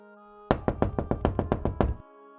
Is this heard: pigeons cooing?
no